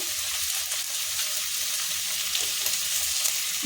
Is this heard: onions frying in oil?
yes